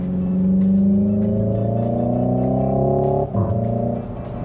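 Hyundai Ioniq 5 N electric car accelerating hard with its simulated engine sound, a loud, close, rising synthetic engine tone that climbs steadily, breaks briefly like a gear shift, then resumes, with no voices.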